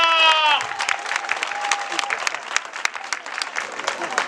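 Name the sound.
crowd applauding loudly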